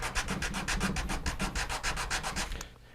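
A wooden guitar bridge is sanded by hand with 80 grit sandpaper in quick, rhythmic back-and-forth strokes, about fifteen close, gritty rasps that stop just before the end.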